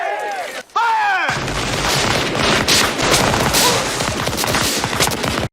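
Musket volley gunfire in the Civil War film Glory: after brief shouted commands, a loud, sustained roar of overlapping musket shots and booms rolls on continuously, close and dense.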